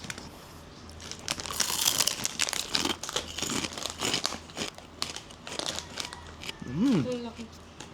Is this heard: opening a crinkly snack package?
yes